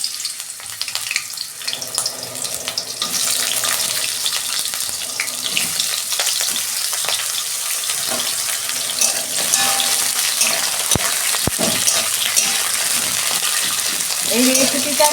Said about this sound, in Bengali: উচ্ছেটা 2 মিনিট ভেজে নেব।